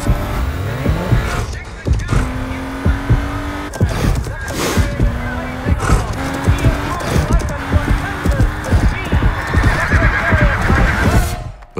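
Horse racing a 2018 Audi S5 Sportback, with repeated loud whinnies and pounding hoof clip-clops alongside engine roar and tire noise, close and busy throughout, with a voice speaking over parts of it.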